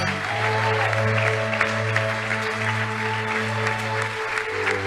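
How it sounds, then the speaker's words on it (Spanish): A church congregation applauds in a sustained, even wash of clapping beneath a steady sustained keyboard or organ tone during a worship service. "Aplauda al que me mueve para decirle. Aplauda al que me hace hablar."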